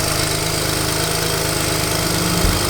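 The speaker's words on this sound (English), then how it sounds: "We have an exhaust leak." A BMW 335i engine running with an exhaust leak gives a loud, steady pulsing drone with a fast rhythmic putter and no voices.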